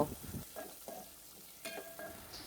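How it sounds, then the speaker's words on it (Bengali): Chopped onions sizzle softly in hot oil while a utensil stirs and scrapes the pan in short bursts, close and fairly quiet. "দিয়ে পেঁয়াজ কুচিটাকে 2 মিনিট হালকা ভেজে নিব।"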